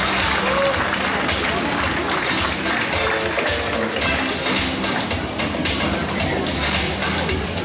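Loud, dense applause from a crowd at a graduation ceremony honouring top students, continuous and unbroken throughout, with a busy, noisy room underneath.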